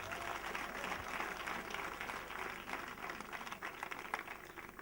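A congregation claps together at a nighttime prayer vigil in Bonoua, a steady even wash of applause, faint and fairly distant, lasting the whole clip.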